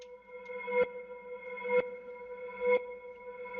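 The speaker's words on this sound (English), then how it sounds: "it has that weird washed up synth sound" A thin, sustained synth tone with a hollow, smeared texture, punctuated by soft clicking pulses roughly once a second, quiet and alone.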